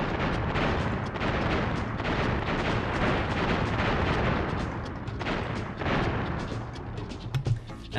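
Explosions rumble as the Cortex Vortex space station is destroyed in Crash Bandicoot 2: Cortex Strikes Back, a dense, continuous roar of blasts lasting several seconds, loud and close, with a few sharper bursts at the end.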